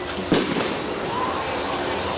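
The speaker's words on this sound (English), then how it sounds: "Not only to be walking, but to have fireworks going off at you." Fireworks pop and crackle steadily, with a sharper burst early on, against a constant roar of outdoor background noise.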